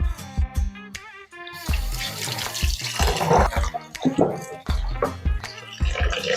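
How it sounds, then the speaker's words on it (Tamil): Thawed goat meat washed under a running tap, with water splashing and gushing in uneven bursts, punctuated by knocks and handling of the meat in a sink, close and fairly loud. "ஸோ இது நல்லா க்ளீனாக வாஷ் பண்ணிவிட்டு அதுக்கப்புறம்"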